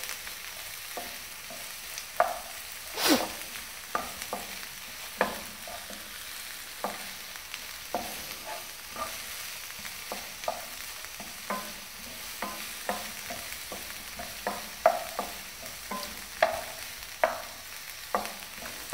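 Gobi manchurian with capsicum is stirred and fried in a pan, a continuous sizzle broken by repeated sharp scrapes and taps of a spoon, spaced unevenly throughout with no voices.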